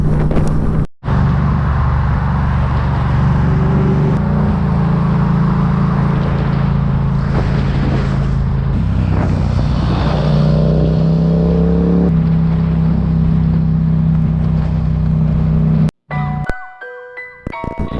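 Sustained, steady road and engine drone from a car cruising at about 50 mph, climbing toward 70 on a national speed limit road, with rumbling low engine tone and wind noise throughout, cutting off briefly near the end.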